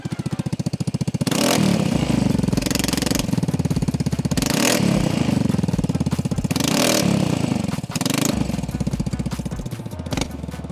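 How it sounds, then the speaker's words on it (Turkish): A Vespa GTS SuperSport 300 scooter engine idles loud and close, its exhaust putting out a rough, throbbing putter with several rhythmic revs rising and falling. "Alet bu egzozumuz da bu. Bir skutura göre birazcık fazla sanki sesi dinleyelim."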